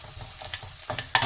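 Onions slowly turning light brown in a pan with a teaspoon of cumin powder, giving a soft steady sizzle broken by a few scraping stirs and a louder clatter near the end.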